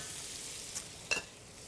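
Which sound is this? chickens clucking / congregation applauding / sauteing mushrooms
sauteing mushrooms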